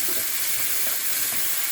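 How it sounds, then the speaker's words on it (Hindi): Chopped tomatoes hit frying onions in a pan of hot oil, giving a steady close hiss of sizzling with faint soft stirring knocks, no voices. "अब हम डालेंगे इसमें कटे हुए टमाटर"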